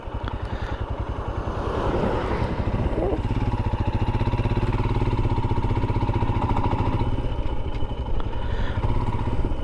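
A 411 cc Royal Enfield Himalayan motorcycle engine thumps loudly and close as the bike pulls away, a steady rhythmic single-cylinder beat that builds slightly in intensity throughout.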